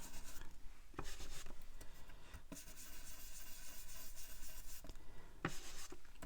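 Scrapbooking pennant cards being coloured by hand, with soft, close scratchy strokes of a pen or pencil rubbing on paper in short repeated bursts, faint and without talk.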